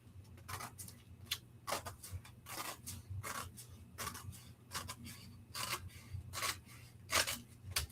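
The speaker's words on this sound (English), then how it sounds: "So just take it and cut it right down the center using that fold as your guide." Scissors cutting through newspaper along the center fold, a steady series of crisp, close snips and paper crunches repeating at an even pace, quiet and without talk.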